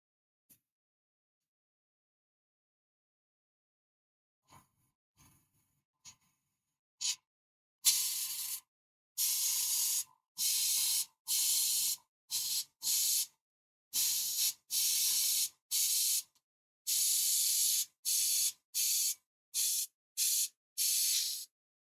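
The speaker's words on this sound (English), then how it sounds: "I'm going to give a clear coat of varnish on these really quick." Clear coat varnish sprayed from an aerosol can onto painted figure arms, heard as a run of about a dozen short, loud hissing bursts with brief gaps, following a few faint taps and clicks.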